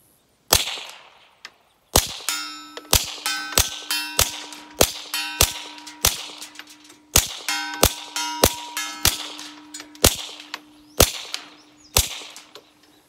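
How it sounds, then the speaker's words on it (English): Taurus TX22 .22 pistol firing CCI subsonic rounds at a range, sharp cracks in an irregular string of around twenty shots with short pauses, each with a metallic ring, and no talking. "I'm going to try the CCI subsonic."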